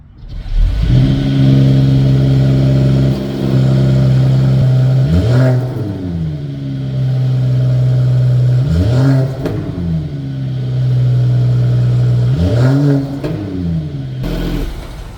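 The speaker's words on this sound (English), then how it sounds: "now let's take a listen to how this engine sounds" A 2022 Mercedes-AMG GT 4-Door's inline-six engine is revved with the car parked: a loud, steady idle hum broken by three sharp throttle blips that rise and fall back, heard up close and with no talking.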